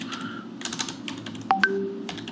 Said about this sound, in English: Okay, type that in here.